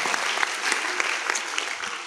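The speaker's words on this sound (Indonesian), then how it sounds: "Oke, tepuk tangan yang meriah." A seated audience at a national defense education event gives a brief burst of dense, even applause that carries through the whole moment without fading.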